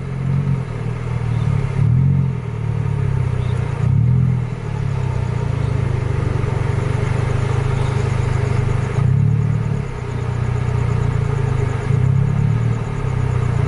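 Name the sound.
Scania-engined bus driving off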